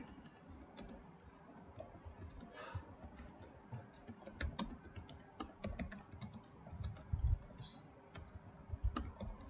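HTML code typed on a computer keyboard, a quiet run of close, uneven keystroke clicks with occasional harder taps and a few pauses, no voices.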